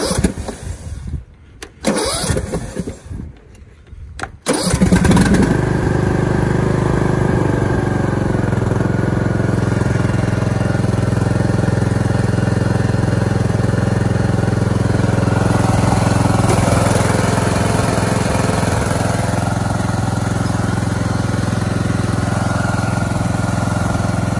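A Cub Cadet XT1 LT42 lawn tractor engine cranks in a few uneven bursts, then catches and settles into a loud, steady idle that runs on continuously up close.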